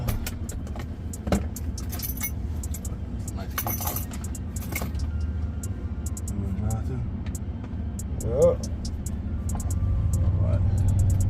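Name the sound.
2023 RAM 1500 Big Horn Night Edition pickup driving on road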